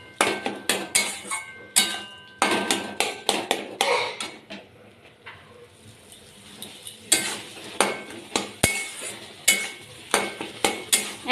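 Mashed taro leaves being stirred and dried out in a pan, sharp rhythmic scraping and clinking strokes of a utensil against the metal, with a quieter stretch of soft sizzle in the middle, no voices.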